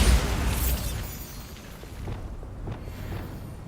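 Bombarda explosion spell in the Hogwarts Legacy video game, a loud boom right at the start that fades into rumbling debris and softer crackles.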